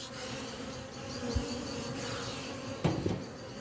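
A honeybee colony at a hive gives a steady, dense buzz throughout, with a couple of brief knocks or bumps rising over the drone.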